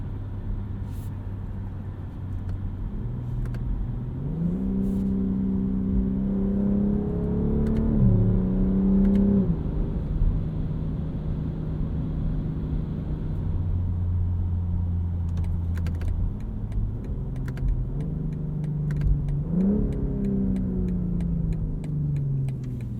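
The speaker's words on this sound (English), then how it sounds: "Taste of the exhaust here." A 2022 BMW M440i xDrive Gran Coupe drives along, its engine rising and falling through gear changes with a steady exhaust drone and rev swells, heard from inside the cabin with faint ticking.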